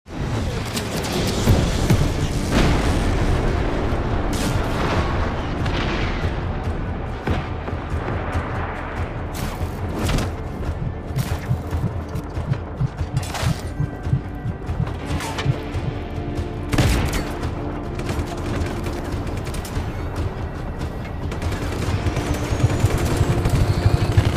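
Explosions and gunfire in the open-world game Just Cause 3, a dense, loud, continuous barrage of blasts, bursts of shots and rumbling crashes.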